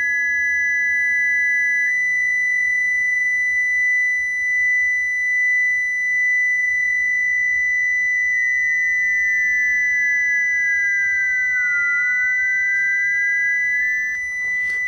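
Steady pure sine tones near 2000 Hz from a tone generator app on an iPhone and an iPad, loud and continuous, one tone sweeping slightly to match the other and producing audible beating, no voices.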